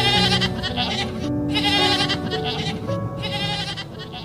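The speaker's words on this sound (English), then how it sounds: "G for goat." A goat bleats in repeated wavering cries, loud and close, with a few pauses between calls and no talking over them.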